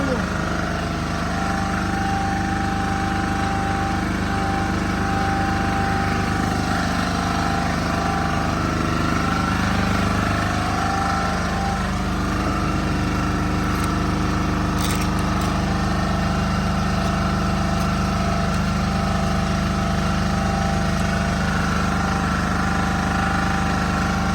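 A ZIL 130 truck engine running and idling, a steady low rumble throughout, with people talking nearby over it.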